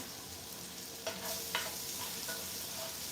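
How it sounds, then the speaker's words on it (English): Garlic cloves and onion sauté in a warm pot for sweet potato chowder, a steady soft sizzle with a few brief utensil clicks, fairly quiet and with no talking. "I'm gonna put the 2 cloves of garlic and the onion in there and just let it saute a little bit"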